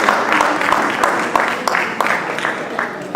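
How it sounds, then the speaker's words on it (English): Audience at a women's event breaks into sustained applause, dense clapping at moderate distance with a few sharper individual claps, talk faintly underneath. "Let's give another round of applause for Mr."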